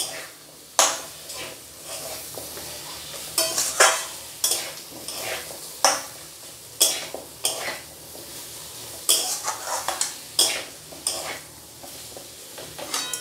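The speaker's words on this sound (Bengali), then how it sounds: "ক্যাপসিকামটা দিয়েও আমি আবারও মশলাটা ভালো করে কষিয়ে নেব।" Capsicum is stir-fried with spice masala in a pan for paneer, with repeated loud scraping strokes of a spatula against the metal over a low, steady sizzle, at an irregular rhythm and with no talk.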